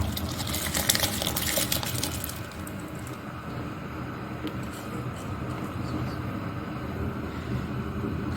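Rice poured into a pot of boiling salted water for Hyderabadi chicken dum biryani makes a steady bubbling, hissing rush at close range, louder at the start and then settling.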